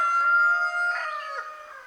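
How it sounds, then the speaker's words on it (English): A rooster crows outside among a flock of backyard chickens, a single loud, drawn-out, wavering call close to the microphone that tapers off over two seconds. "You got Foghorn Leghorn outside crowing."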